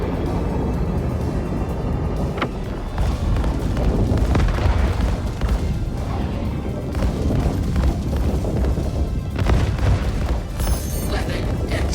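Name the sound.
laser cannon fire and explosions from a video game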